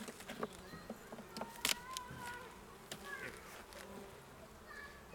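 Honey bees buzz around hive frames full of pollen and honey at an Essex apiary, a close, busy hum with scattered louder passes of individual bees and a few soft knocks.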